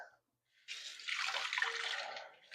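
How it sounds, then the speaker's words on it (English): Water running from a kitchen tap while fish is being prepared, a steady hissing stream that starts abruptly and holds loud and close for about two seconds, with no one speaking over it. "You should run it under hot water."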